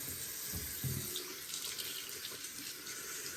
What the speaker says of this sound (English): I'll give it a little rinse